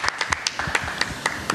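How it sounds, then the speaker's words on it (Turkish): Studio applause in a Turkish television music programme, a thin scattering of separate handclaps in an uneven rhythm, fairly close and alone without speech. "Alkışları duyuyoruz biz efendim."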